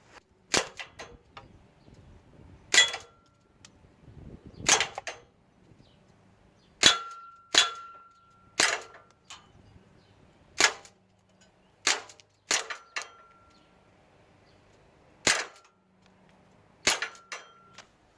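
A Sig Sauer MPX semi-automatic air rifle, a full-metal M4 replica, fires .177 pellets in sharp, close snapping shots, some in quick pairs and some spaced seconds apart, each followed by a brief metallic ring on the target, with no talking.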